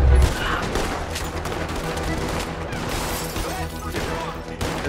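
Dense, continuous volleys of gunshots during a bank robbery shootout in Red Dead Redemption, loud and overlapping throughout with no pauses.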